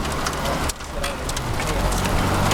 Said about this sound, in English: the rain and the hail, that's a problem too